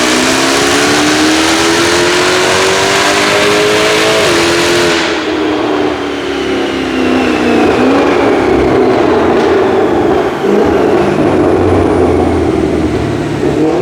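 A supercharged Jaguar F-Type with a Harrop TVS2300 supercharger roars loudly on a workshop dyno, engine pitch climbing under hard load, then dropping off and settling into a sustained high-revving run.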